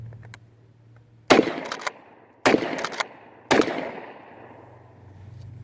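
Remington Sportsman 20 pump shotgun fired outdoors, three loud close blasts about a second apart, each followed by the clack of the pump action cycling, with quiet between shots and no talk.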